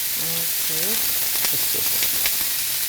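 Chicken and beef kebabs fry in hot oil in a pan, giving a loud, constant, close sizzle that runs throughout. A couple of short voiced sounds come in near the start.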